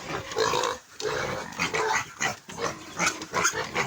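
Pregnant sows at feeding time on a pig farm grunt and squeal loudly and close by in rapid, overlapping bursts for a few seconds.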